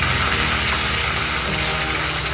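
Curry leaves sizzling in hot oil alongside slit green chillies for rava upma, a dense continuous crackling hiss heard close and alone.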